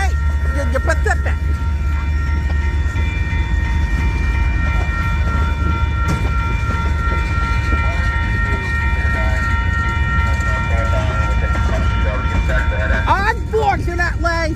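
Union Pacific freight train with locomotive 7468 rolling through a railroad crossing in St Paul, a steady loud rumble and rail clatter throughout, with a brief horn-like tone near the end.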